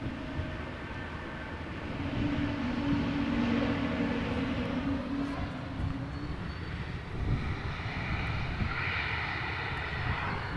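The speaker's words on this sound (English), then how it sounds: "the A380 of today. In the Journey to the Future livery, Emirates Flight 147, A380-800" An Emirates Airbus A380-800 airliner at Amsterdam Schiphol produces a steady, broad jet engine roar that swells slightly and holds, heard from a spotting position without talk.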